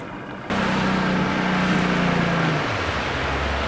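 A fishing boat's outboard engine drones steadily and loudly up close, then its pitch drops as it slows down toward idle.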